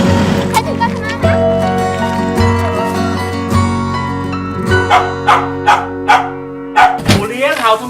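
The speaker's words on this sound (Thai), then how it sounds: "หมูเลี้ยงเห่าทำไม" A dog barks in a quick series of loud, close yaps near the end, while people and someone talk and call out over it.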